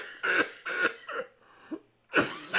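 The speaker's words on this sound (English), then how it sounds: "While he's coughing his ass off" A sick man coughs hard several times in quick bursts, harsh and throaty, with a short pause before one more rough cough, close by in a quiet room.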